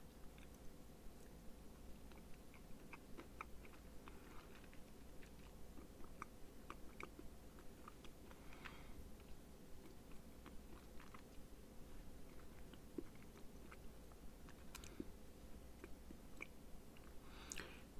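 Quiet close-up chewing of a small nibble from a cold weather MRE ration with a peanut-butter smell, soft wet mouth sounds and faint crunches in an irregular rhythm over near silence.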